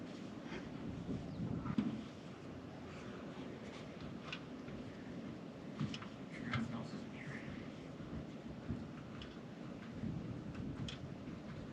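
Wind buffets the microphone outdoors on a farm with a low, steady rumbling roar and gusty surges, faint in level, while people talk.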